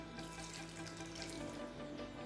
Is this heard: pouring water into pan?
yes